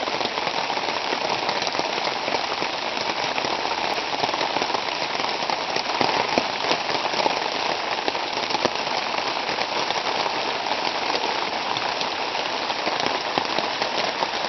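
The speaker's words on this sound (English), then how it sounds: "It's a rainy day." Steady rain patters on surfaces at a primitive mountain campsite in the Virginia Highlands, a dense continuous hiss of drops with scattered sharper taps, heard without talk.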